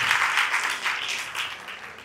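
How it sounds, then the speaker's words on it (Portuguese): Audience applause for a professor at a talk: a dense burst of clapping from a crowd, loud and continuous, tapering slightly toward the end. "Uma salva de palmas para o professor"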